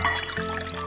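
Water pours into a pot on a kitchen stove as ginger slices sit inside, a steady close splashing flow with no one speaking.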